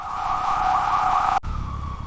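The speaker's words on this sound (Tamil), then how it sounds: "ஆம்புலன்ஸின் சைரனை அலறவிட்டு" An ambulance siren wails loudly and steadily in a single sustained tone, cut off abruptly partway through before a fainter siren tone continues over rumbling road noise.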